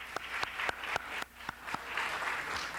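Sparse clapping from a small group in a city council chamber, welcoming a guest who has just been asked to stand; a handful of distinct claps at first, then a softer, steady patter.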